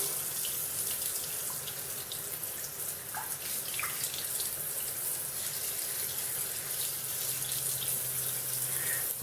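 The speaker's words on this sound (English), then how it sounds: "give it a good rinse under" Philips Philishave 384 travel shaver parts rinsed under a steadily running tap, water hissing and splashing continuously into a sink at close range with occasional small clinks.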